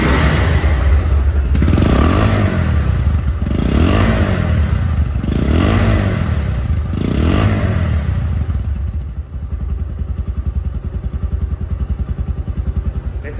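A Bajaj Pulsar DD motorcycle engine runs loud and close, revved in several repeated rising pulls before settling into a steady, lower idle rhythm.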